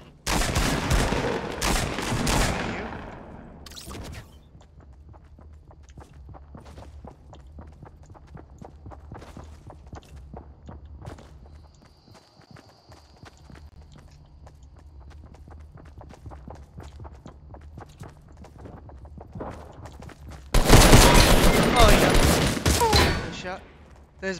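Fortnite gunfire from a scoped assault rifle comes as loud dense bursts at the start and near the end, with quieter game sounds, footsteps and players talking in between.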